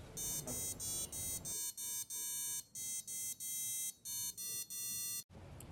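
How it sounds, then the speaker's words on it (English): A small piezo buzzer driven by an Arduino beeps out a simple melody, a string of short electronic tones with brief gaps between notes in a steady rhythm, fairly quiet and heard alone without talking. "you should now be able to hear the buzzer making sweet melodies"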